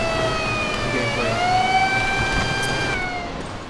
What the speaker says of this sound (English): So now you can activate and deactivate siren without looking back